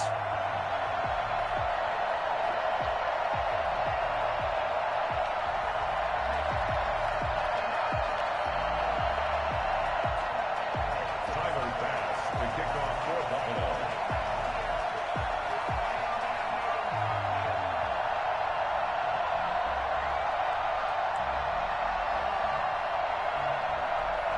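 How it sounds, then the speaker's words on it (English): A stadium crowd fills NRG Stadium in Houston before a Buffalo Bills vs Houston Texans NFL game, making a steady, dense roar that holds throughout. "This crowd is ready as their guys get set to match up between the Buffalo Bills and the Houston Texans."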